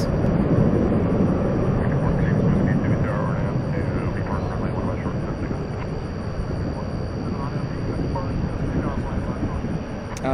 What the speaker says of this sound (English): Some 747-8 action